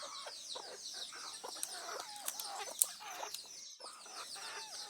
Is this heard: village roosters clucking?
yes